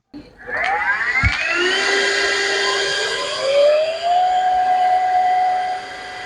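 A Shark HydroVac Pro wet and dry vacuum starting up, its motor whine rising in pitch into a steady high tonal hum, with a brief thump early on and a shift in tone as it draws up water.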